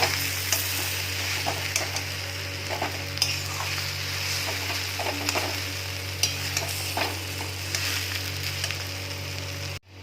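Potato bhuji frying in a pan while being stirred, a constant sizzle with repeated scraping and clinking of a spoon against the pan, close up, cutting off abruptly at the end.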